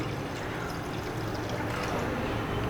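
Water poured into a pan of tamarind and plum chutney, a soft steady splashing stream heard close and alone for a few seconds.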